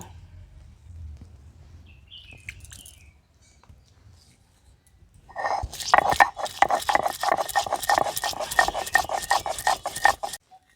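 Garlic, mustard seeds and dried chillies are ground together into a spice paste. After a quiet stretch, firm rhythmic scraping strokes repeat steadily and close by for about five seconds.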